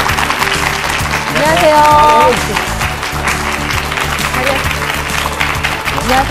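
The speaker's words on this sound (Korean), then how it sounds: "큰 박수로 맞이해 주시죠" A studio audience on a Korean health television program applauds to welcome a guest doctor, a dense wash of clapping rising and then fading under talk and a brief greeting.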